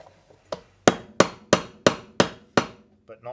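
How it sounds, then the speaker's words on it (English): A hammer striking a nail bent over on an aluminium tap plate of a tap dancing shoe, seven sharp, ringing blows at a steady pace, close and loud, followed by a couple of softer knocks. "I hammer it as flat as I can possibly get it"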